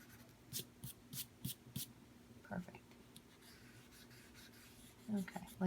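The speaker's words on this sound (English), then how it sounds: "And I'm going to erase this pencil line." An eraser rubs out a pencil line on card for a Stampin' Up seaside project, making short soft scrubbing strokes in quick bursts, close and quiet with pauses between.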